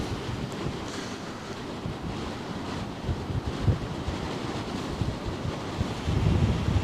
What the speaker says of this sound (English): Wow, the wind is suddenly picking up.